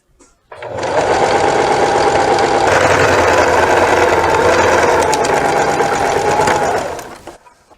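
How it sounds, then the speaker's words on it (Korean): A sewing machine runs steadily for about six seconds, stitching a 1 cm seam on the checked outer fabric of a round jacket's sleeve; a loud, continuous whirring hum heard up close, with no talking. "반대쪽 소매도 또 어, 맞춰놓고 그 다음에 또 1cm로 박아줍니다"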